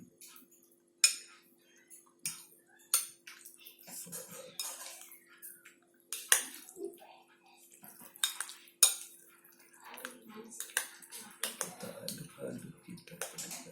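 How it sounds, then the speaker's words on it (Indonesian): A spoon stirs chicken porridge (bubur ayam) in a bowl, making quiet, irregular clinks and scrapes against the bowl, spaced a second or two apart, with a few soft words spoken near the end. "Kita aduk sampai merata. Terus kita aduk."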